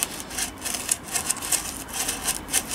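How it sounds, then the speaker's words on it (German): A drill bit bores four holes into a block of styrofoam, making a close, scratchy rasping that comes in uneven repeated bursts with no voices. "Ich mache 4 Löcher rein. 4 Löcher ist besser wie 3 Löcher. Mit dem Bohrer."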